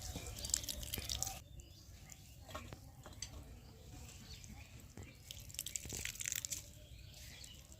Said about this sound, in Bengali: এইবার ভালো করে চিপে জলটা ঝরিয়ে নেব।